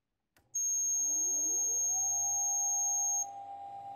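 A harsh electronic buzzer on a Keithley 619 two-channel electrometer switches on abruptly and blares at a steady, piercing pitch for nearly three seconds, then drops to a lower hum.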